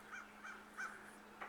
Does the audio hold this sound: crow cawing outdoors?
yes